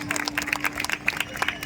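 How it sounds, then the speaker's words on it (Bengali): Audience applause at the Jagatdal festival stage show, a brief burst of scattered, lively clapping from the crowd with some voices mixed in. "একটা বড় হাততালি আমাদের তরফ থেকে।"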